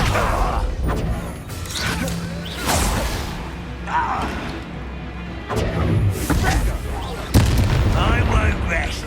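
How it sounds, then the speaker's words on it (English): Descendo spell in Hogwarts Legacy slamming an enemy down during a duel: heavy booming impacts and crashing thuds over continuous battle noise, with several loud hits spread through the fight. "Descendo."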